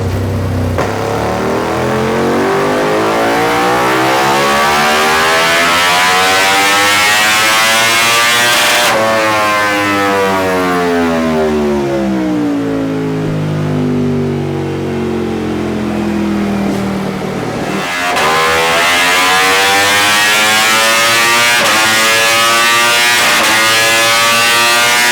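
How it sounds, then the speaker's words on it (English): 2025 Ducati Panigale V4 Tricolore Italia on a dyno, a loud close engine screaming up through the revs in a long pull, easing down and then climbing again, with no talk. "First up on the dyno is my beautiful 2025 Ducati Panigale V4 Tricolore Italia."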